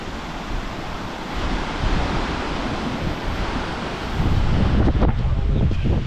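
A waterfall in the Scottish Highlands along the NC500 route, a steady, loud broadband rush of falling water with some wind buffeting on the microphone and no talk.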